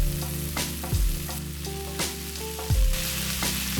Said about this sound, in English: Add the tomatoes now and let it fry.